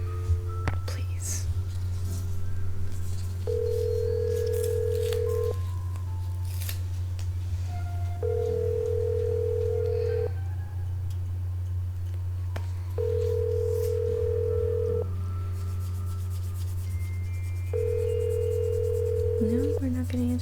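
A telephone rings in a video game, giving four long, evenly spaced flat tones over a steady low hum, with faint whispery voices and small clicks around it.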